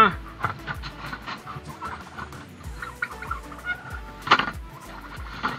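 Several turkeys gobble in repeated overlapping bursts close by on a farm, one loud call standing out near the end, with no voices over them.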